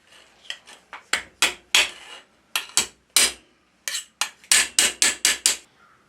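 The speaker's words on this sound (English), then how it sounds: "I'm just going to use a regular chisel to drive it along the cut line just to see how easy it is to shear this slug out of the plate" A hammer strikes a cold chisel again and again to shear a slug out of a steel plate, sharp ringing metallic blows in irregular clusters with short gaps, close and loud, no talk.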